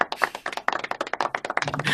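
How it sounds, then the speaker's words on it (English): Applause drop inserted into a podcast: a steady patter of many hands clapping, close and fairly loud, running throughout without any talk. "This is a really long applause drop."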